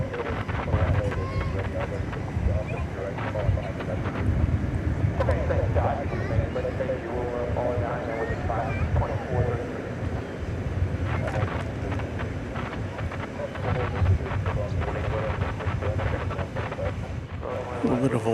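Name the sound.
gusting wind on microphone at airport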